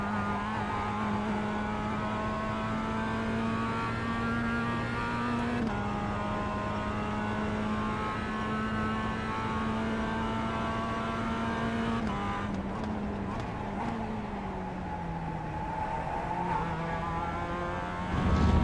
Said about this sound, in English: Did not want to downshift that quickly. Almost blew the engine.